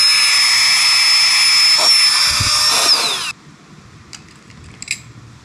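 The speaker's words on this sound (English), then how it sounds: "So it's tiny, it weighs nothing, and it'll pump up your air mattress." A tiny battery-powered air pump inflates an air mattress with a loud, steady high whine for about three seconds, then cuts off abruptly, leaving a few faint clicks and handling taps.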